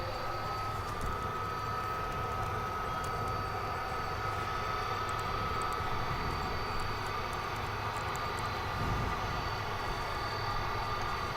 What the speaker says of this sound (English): No, it's an Airbus A300.